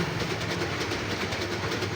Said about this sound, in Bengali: একটি ট্রেন যাচ্ছে তাই গাড়ির পাশে দাঁড়িয়ে আপনাদের জন্য ট্রেনের ভিডিওটি নিচ্ছি